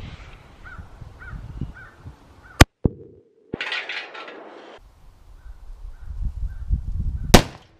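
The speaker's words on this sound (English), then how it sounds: "Let's go ahead and pop them twice. 3 yards with a 450 Bushmaster and see what happens." Two sharp, loud cracks from a .450 Bushmaster rifle fired at body armor from three yards, spaced several seconds apart, with smaller knocks and a brief burst of rushing noise between them and no speech.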